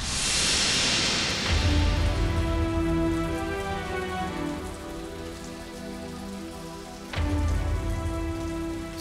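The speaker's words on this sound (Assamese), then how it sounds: "বৰষুণ জাকনো বাৰু এতিয়া কিয় আহিব লাগে হে?" Heavy rain pours steadily on a surface, a dense continuous hiss close by, with a sharp burst partway through and no speech over it.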